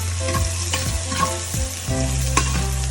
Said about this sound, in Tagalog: inuuna ko talaga ang sibuyas para mauna siyang maluto